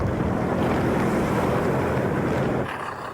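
Big surf at Teahupo'o, Tahiti, roars continuously as heavy waves break, a loud broadband rush with wind noise that eases slightly near the end.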